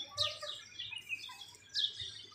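Birds chirp and tweet in short, bright bursts at a wildlife park in Bahrain, a few close calls standing out over a quiet background with no talking.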